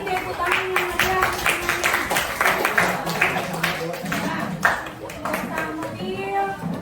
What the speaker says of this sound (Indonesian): Kita kasih tepuk tangan yang meriah